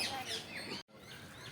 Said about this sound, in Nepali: यहाँ त्यही चराचुरुङ्गी सुगाहरू रहेछ यहाँ चाहिँ